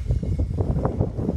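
Strong, gusty wind buffets an outdoor microphone while pigeons are flown, a loud continuous low rumble with uneven surges throughout.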